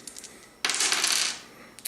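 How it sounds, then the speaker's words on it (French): Dice roll across a board during a KiWeTin board game turn, a sudden bright rattling clatter that tumbles for about half a second and settles, heard close with no talk. "il va donc devoir lancer les dés"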